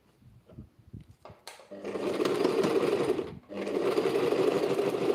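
A sewing machine stitching the hem of a silk chiffon handkerchief runs in two steady, close whirring bursts split by a short pause, after a few soft handling clicks at the start.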